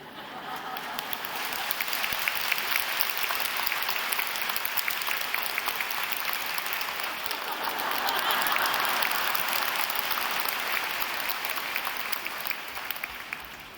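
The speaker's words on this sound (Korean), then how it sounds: "여러분이 박수 치는 것처럼 그들도 일어나서 박수를 칩니다" A church congregation applauds during a sermon at Yoido Full Gospel Church, a broad steady wash of clapping that holds for about fourteen seconds, swelling slightly in the middle and fading a little at the end.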